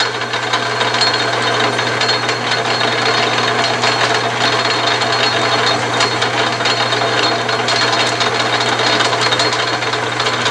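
An Atlas/Craftsman 12-inch metal lathe cutting a thread runs with a steady, loud mechanical whir and a dense gear chatter, continuous and close throughout.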